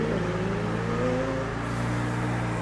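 A McLaren sports car pulls away hard, its engine note steady and loud with a rising pitch as it accelerates, backed by a constant low drone of nearby traffic, with no talking.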